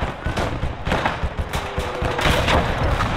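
An auto cannon fires in the Gates of Hell war video game, loud rapid bursts of heavy shots that thump close together with no pause.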